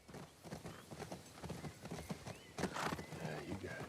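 A horse in The Last of Us Part II moves with steady clip-clopping hooves and snorts, then gives a louder neigh near the end, moderately close and alone without talk.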